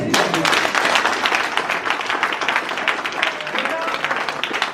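A church congregation bursts into steady applause to acclaim Jesus, loud continuous clapping from a crowd filling the room throughout.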